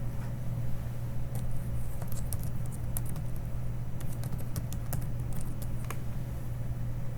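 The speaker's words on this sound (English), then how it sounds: "we're going to type in" Keyboard typing in Microsoft Word while formatting a research paper, heard as scattered soft key clicks over a steady low hum, quiet and somewhat distant with no voice.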